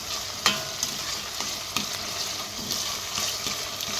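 Onions soften in a pan on a home stove, a continuous, moderate sizzle with occasional clacks and scrapes from stirring, heard close and without talk.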